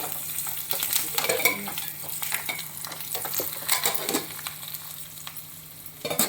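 Curry leaves hit hot oil with a loud crackling sizzle, broken by sharp spatters and stirring clatter against the pan, close and vigorous throughout.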